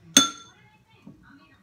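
Pasta goes into a sprayed pan with one sharp metallic clink, followed by a faint, softer knock about a second later.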